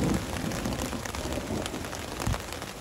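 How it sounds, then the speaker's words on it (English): Heavy rain pours down steadily during a storm, a dense, loud wash of drops drumming on surfaces nearby with occasional heavier splashes and no talking. "when the heavens opened up, the rain just would not stop"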